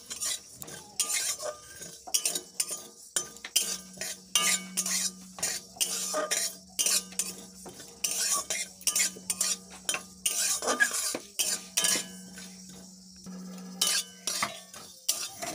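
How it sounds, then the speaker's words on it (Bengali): About a spoonful of cumin seeds dry-roasts in a kadai on a gas stove, with a metal spatula stirring and scraping in quick, irregular clinks and a faint dry sizzle underneath. "একটা কড়াই বসিয়ে দিচ্ছি গ্যাসে, ওর মধ্যেই 1 চামচের মতন জিরে ভেজে নিচ্ছি"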